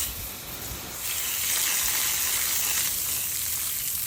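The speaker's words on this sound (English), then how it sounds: "get the hose ready" A garden hose sprays water over an Akubra rabbit felt hat treated with deck sealant, making a steady, loud, close hiss of spray that swells slightly after the first second and continues without pause.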